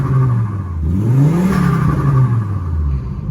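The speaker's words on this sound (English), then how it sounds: "It doesn't pop a bang, but it whirs and it whistles." A Volvo 850 T5 turbo estate's engine and exhaust rise and fall in a steady whir, with a faint turbo whistle over a loud, continuous drone close by.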